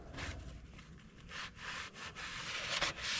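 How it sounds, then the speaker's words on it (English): A cloth rubs and scrubs across a John Deere 4840 tractor engine block in repeated back-and-forth strokes, fairly quiet and close, with no talking. "Just going to wipe this all down good."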